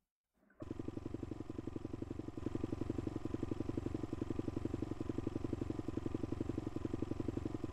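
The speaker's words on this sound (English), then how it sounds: "It's only got 4 gears. Little pit bike engines." A small pit bike engine starts and runs steadily at a fast, even idle, loud and close, with a rapid rhythmic clatter throughout and no talking.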